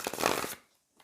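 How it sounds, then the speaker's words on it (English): Tarot cards shuffled by hand in a dense, riffling burst of papery rustle lasting about half a second, then near silence with one faint soft flick at the end. "I'm going to shuffle again, especially for those new to tarot"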